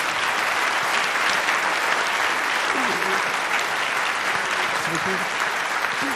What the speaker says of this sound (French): on peut applaudir Jérôme Fourquet